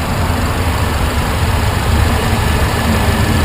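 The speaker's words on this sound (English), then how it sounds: "You got your 4-cylinder supercharged engine." Close up in the engine bay of a Mercedes-Benz C250, the 4-cylinder supercharged engine runs with a steady, dense mechanical hum and whir that stays level throughout, without speech.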